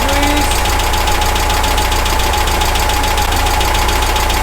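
A VW Baja Bug engine with its carburetor idle set to about 850 rpm runs at a steady, close, loud idle. The rumble is continuous and even, with no speech over it.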